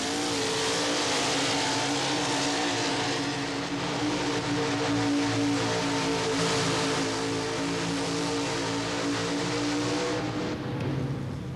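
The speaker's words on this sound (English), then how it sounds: "Jerry Weaver makes a real good pull, a brand new paint job on this 1985 Chevrolet" A 1985 Chevrolet four-wheel drive truck makes a pull at a superstock and 4x4 truck pulling event, its loud, sustained engine roar droning and straining steadily, then easing slightly near the end.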